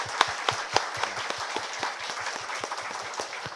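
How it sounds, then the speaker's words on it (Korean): Applause at a wedding service: an audience claps for a few seconds with distinct, fairly close hand claps in an uneven rhythm, moderately loud and unbroken throughout. "큰 박수 부탁드리겠습니다."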